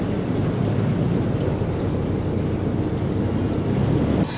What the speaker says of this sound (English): Now we do have 2 Cadillac engines from an Eldorado behind us